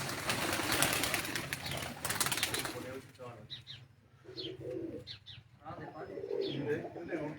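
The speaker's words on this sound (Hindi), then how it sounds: "ये आमिर के परवाजी कबूतर।" Pigeons flutter and coo on a rooftop in Kundian. A loud rush of flapping wings fades into softer scattered coos and rustles, with voices faintly present.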